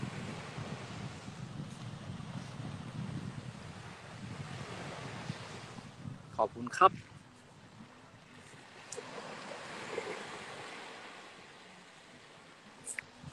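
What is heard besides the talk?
sea waves on the shore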